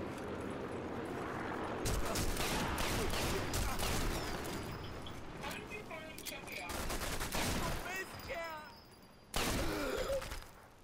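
Gunfire in the Sniper Elite 4 video game: bursts of shots and sharp cracks, some loud and close, others farther off, layered over battle noise with scattered rapid volleys and a sudden heavy burst near the end.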